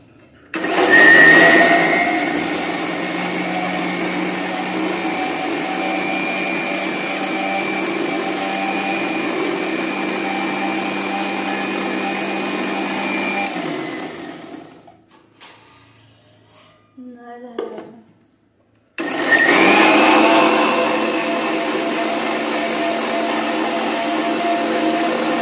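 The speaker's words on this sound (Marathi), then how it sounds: "तर अशा पद्धतीने मिक्सर मधून याला बारीक वाटून घ्यायचे।" Mixer grinder blending spinach, mint and coriander into juice, a loud steady motor whir running for about fourteen seconds, stopping briefly with a few soft clunks, then starting up again at full speed.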